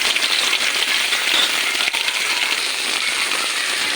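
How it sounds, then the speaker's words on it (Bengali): Onions dropped into hot oil in a pan while cooking a mutton curry, giving a loud, steady hiss of crackling sizzle that runs evenly throughout without a break. "তেল গরম হয়ে গেছে এবার পেঁয়াজটা দিয়ে দেবো"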